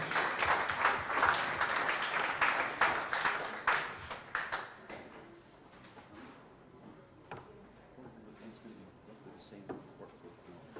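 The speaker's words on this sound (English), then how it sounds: "please give a very, very, very warm round of applause for all of yourselves for being here today" An audience at a conference and expo gives a warm round of applause, loud dense clapping that thins into scattered claps and fades out after about five seconds, leaving quiet room murmur.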